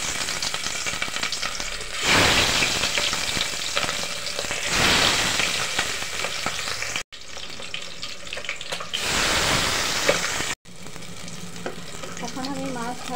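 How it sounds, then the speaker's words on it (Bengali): Fish sizzle and spit in hot oil in a pot, a loud, steady frying hiss that swells in bursts and breaks off twice briefly, with no one talking. "এখন আমি মাছগুলো দিয়ে ভেজে নিব"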